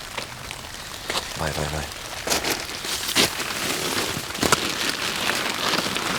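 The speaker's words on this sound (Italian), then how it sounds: "sentire il rumore della pioggia ed essere qua dentro completamente" Steady rain falls on a makeshift shelter in a forest, a dense continuous patter with a few louder drops, while people talk briefly and quietly nearby.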